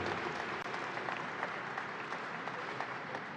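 Outdoor crowd at the New York State Fair applauds during a governor's remarks: a soft, continuous wash of many hands clapping, heard from some distance and fairly faint throughout.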